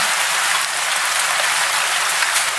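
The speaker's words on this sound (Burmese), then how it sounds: "တညမှာတော့မိုးကတဲကြီးမဲကြီးရွာပါလေရော" Heavy rain pours down in a cartoon scene, a dense, steady hiss of falling water that stays loud and unbroken throughout with no voices.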